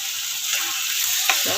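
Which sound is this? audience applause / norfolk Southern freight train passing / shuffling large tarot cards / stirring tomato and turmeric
stirring tomato and turmeric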